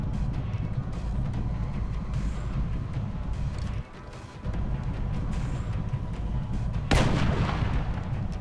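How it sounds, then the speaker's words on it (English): Sniper precision shot firing in XCOM Long War, a single heavy sharp blast cutting through a constant low rumbling battle ambience, loud and near, with no talk. "Operative Sentry. Precision shot"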